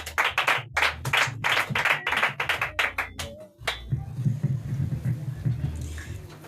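A church congregation claps during a Sunday testimony and prayer service, sharp rhythmic hand claps that fade out midway, giving way to a low murmur and voices.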